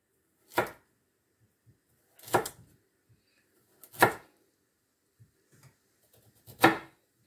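Carrots sliced into rounds with a knife on a cutting board, five separate crisp chops spaced about a second and a half apart in a quiet room.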